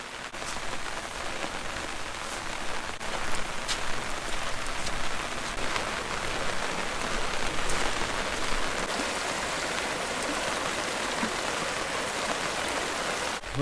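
Heavy, unrelenting rain drums steadily on an umbrella beside Trout Lake in Yellowstone during a hike, a dense, close, constant patter with no letup and no voices.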